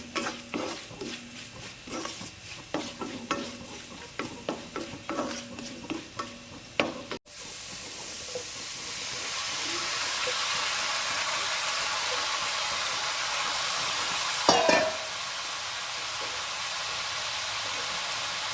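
Steady sizzling of raw plantain stir-fry cooking in a pan with turmeric and salt, with brisk scraping and stirring strokes early on, then a continuous hiss that flares briefly.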